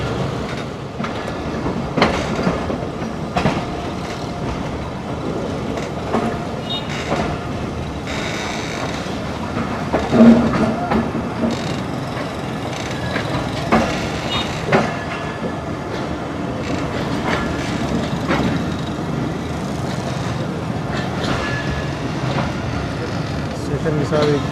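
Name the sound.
Pakistan Railways train running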